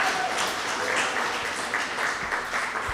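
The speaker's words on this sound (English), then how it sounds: "Y'all can keep clapping." Steady applause from an audience at an event announcing grant awards, a continuous wash of many hands clapping at moderate distance, with no speech over it.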